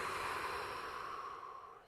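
A single long, soft exhale during a calming qi gong exercise: a smooth, close breath that slowly fades over about two seconds.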